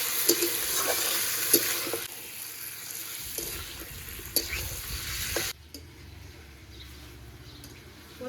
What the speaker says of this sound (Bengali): এবার পেঁয়াজের সঙ্গে খুব ভালো করে মাংসটা কষাবো মানে ভেজে নিতে হবে